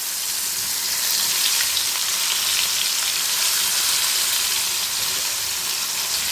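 Fish masala fries in a pan for a fish biryani, producing a loud, dense, rain-like hiss that holds steady from start to finish.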